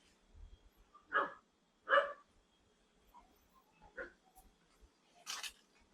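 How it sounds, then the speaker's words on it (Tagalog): Dog barking at an events place in Alfonso, Cavite: a few separate, moderately distant barks spaced about a second apart, followed by softer yips and one more bark, against a quiet background. "may aso."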